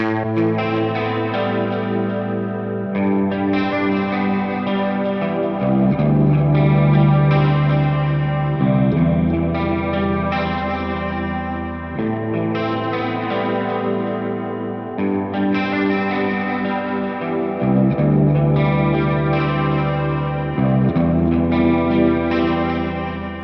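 Layered synth-pad chords run through a far convolution reverb panned inverse to the left of the mix, with a sustained, washy, chorused tail that changes chord roughly every three seconds and no talk.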